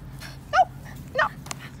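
A dog gives two short, high yips with a whimpering edge, about half a second apart, fairly close and clear, followed by a faint click.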